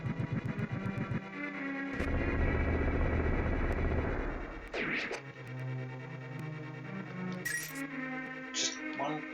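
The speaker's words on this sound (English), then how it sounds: "And we launch another wave of explosions" Explosions from the SNES game The Legend of Zelda: A Link to the Past (randomizer), a dense rattling burst of blasts that swells loudly then breaks into scattered chimes and tones over the game's music.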